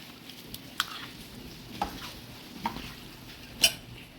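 A spoon stirs mutton pieces coated with chili powder, curd and oil in a pot, giving quiet scraping and a few sharp metallic clinks spaced out over a few seconds, with no speech.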